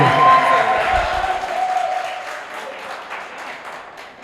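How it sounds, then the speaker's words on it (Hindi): An audience at a poetry recital applauds a poet arriving on stage, loud clapping at first that gradually thins and fades out, with a voice briefly audible near the start. "जोरदार ताली से इस्तकबाल कीजिए"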